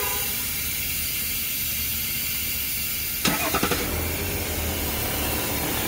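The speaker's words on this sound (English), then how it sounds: "Remote start for the win." A GMC Sierra AT4 truck engine fires up by remote start, a brief cranking stutter followed by a steady, close idle over background hiss.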